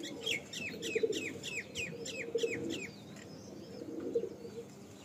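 A Kalsira pigeon pair coos in low, repeated throaty rolls near the listener, while a series of sharp high chirps from other birds runs through the first half.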